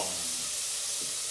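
Onions frying over high heat in a hot pan with a pinch of salt: a steady, close, broadband sizzle with faint stirring movements. No voices.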